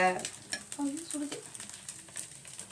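A dosa frying on a pan in a home kitchen gives a steady soft sizzle with faint utensil scrapes, heard close and continuous throughout.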